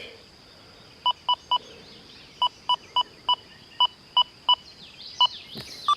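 Deus 2 metal detector fitted with the HF2 coil beeps on a nickel, a series of short sharp tones in irregular bursts over a faint background hiss, no talking.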